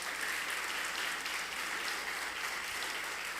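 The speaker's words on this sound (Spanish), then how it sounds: "Un fuerte aplauso para ustedes." A church congregation claps loudly and steadily, a thick continuous wall of applause with no pauses throughout.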